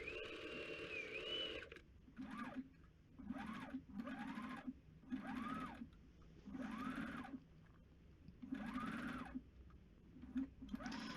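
A sewing machine stitching down the small edge of a dress sleeve, running in repeated short bursts of whirring motor hum with brief pauses between them, close and steady, with no speech.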